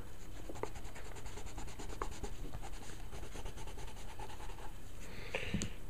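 A Crayola Twistables crayon is colored steadily across paper. Close, continuous scratchy rubbing strokes repeat in a quick, even rhythm throughout, with no voices.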